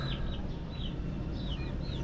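Backyard pet chickens clucking in short, repeated calls over a constant low rumble of background noise, fairly close and moderately loud.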